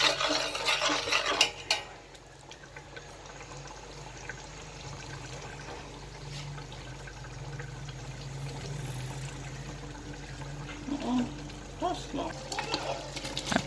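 A cabbage tomato sauce with pepper, garlic and ginger being stirred in a pot: scraping and clinking of a utensil against the pan, louder at the start, then a low simmering bubble with occasional clatter and some talking.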